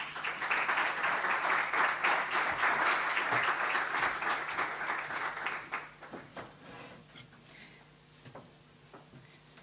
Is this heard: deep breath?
no